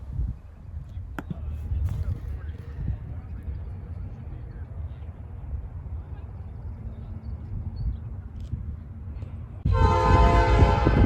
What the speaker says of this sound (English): We're not waiting long before our first train arrives, a Norfolk Southern local freight.